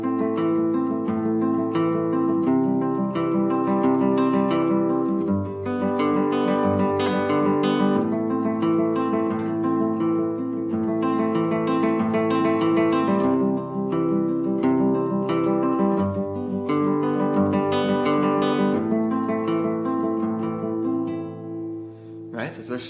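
Acoustic guitar fingerpicked in a quick, repeating thumb-index-middle-index pattern, notes rippling evenly and continuously up close, with no talking over the playing until it rings off at the end.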